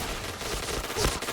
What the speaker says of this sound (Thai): ผมยิงค้างเลยนะ ผมไม่ได้ยิงคุมอะไรขนาดนั้นอะ